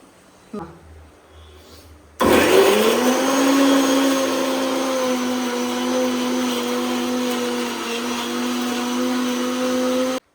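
A kitchen mixer grinder whirs loudly and steadily while blending a spice paste for biryani. It starts abruptly after a few quiet moments and keeps a constant motor drone until it cuts off, with faint voices before it begins.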